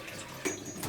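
Long grain rice being rinsed by hand in a bowl of water, fingers twirling the grains to release starch; a soft, quiet swish and trickle of water with brief splashy accents, no talking.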